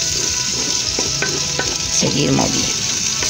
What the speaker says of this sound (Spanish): Yo voy a terminar de freír bien mis ajíes